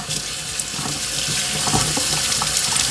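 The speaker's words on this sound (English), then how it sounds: "We're gonna rinse off the salt now." Tap water runs steadily from a faucet into a sink as salt is rinsed off raw ribeye steaks, a continuous close splashing hiss with small shifts as the meat moves under the stream.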